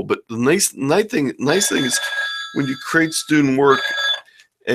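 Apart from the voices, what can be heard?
phone ringing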